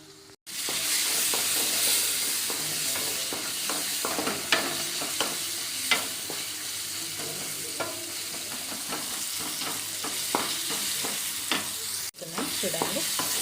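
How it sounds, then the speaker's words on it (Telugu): Chopped ivy gourd (dondakaya) sizzles loudly in a hot pan for pachadi, with a steady frying hiss and repeated scraping strokes of a spoon stirring through the pieces, close and continuous. "దొండకాయ కొంచెం వేగిన తర్వాత మనం టమాటో వేసేస్తాం."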